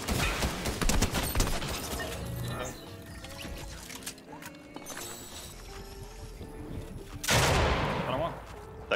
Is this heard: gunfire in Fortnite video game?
yes